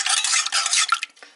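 Salted cheese curds for homemade hard cheese are stirred briskly in a pot, a loud, close run of wet scraping and squelching strokes that thins into a few separate scrapes at the end, with no voices.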